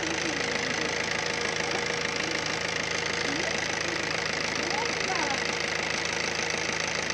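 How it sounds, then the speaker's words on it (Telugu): A Maruti Swift Dzire VDI diesel engine runs steadily with an even, continuous clatter and hum, unbroken and close throughout. "యాక్చువల్గా ఇంజిన్ నాయిస్ చాలా స్మూత్ అవుతుంది అనమాట."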